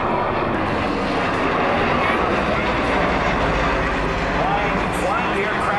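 MV-22 Osprey tiltrotor aircraft of the US Marine Corps flying a demonstration at the MCAS Miramar Airshow, a loud, steady broadband rotor and engine roar sustained throughout with a faint announcer's voice mixed in.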